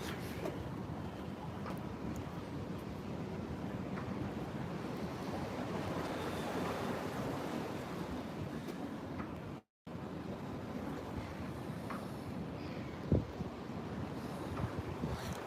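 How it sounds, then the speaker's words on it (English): Cold wind on a beach in the Lowestoft, Pakefield and Gorleston area, a steady rushing buffet across the microphone with faint surf beneath, lasting the whole stretch apart from one brief dropout. "Otherwise that wind's a bit chilly."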